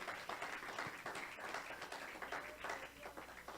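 Congregation clapping at a church service, a soft, dense patter of many hands heard at a distance, steady for a few seconds.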